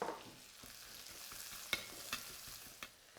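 Fennel seeds sizzling in hot oil in a wok over low heat alongside ginger and spring onion, a soft steady fizz with a few sharp clicks and stirring taps, quiet and close.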